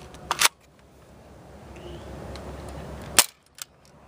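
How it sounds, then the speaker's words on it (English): A Dart Zone QuickFire 8 toy blaster fires darts: two sharp snapping shots about three seconds apart, each followed by a faint click, in an otherwise quiet room. "fire off 8 shots"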